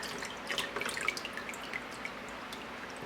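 Water trickling and dripping as handmade paper pulp drains through a mould, a steady close patter of small drips and splashes with no talking.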